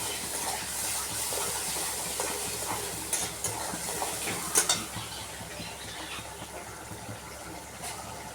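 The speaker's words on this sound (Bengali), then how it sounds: "এবার মশলাটা কষাতে দেবো।" Spices with turmeric stirred and frying in a pan for an egg curry, a steady soft sizzle with occasional scraping clinks, close and low in level, no talk.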